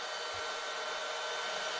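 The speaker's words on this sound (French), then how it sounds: "J'avais oublié qu'il était là, le petit ventilo sur le côté." A small electric fan runs with a constant, even airy hiss, steady and fairly close throughout, with nothing else over it.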